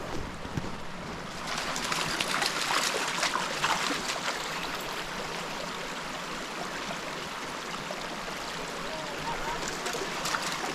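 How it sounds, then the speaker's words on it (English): A river rushes steadily at a hiking-trail crossing in Bair Canyon in winter, its broad continuous hiss of flowing water close by and unbroken throughout. "we made it to the second river crossing"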